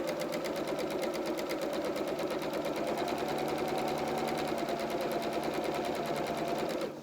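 A sewing machine runs steadily while stitching a frill flat along a fabric edge, a continuous close whirring hum at even speed for the whole stretch, stopping right at the end.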